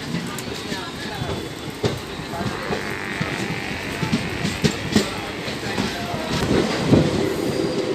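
The Varanasi Mahamana Express pulls away from Jaunpur City station, its wheels clattering in an uneven rhythm with squeals and rumble close by, while someone talks over it.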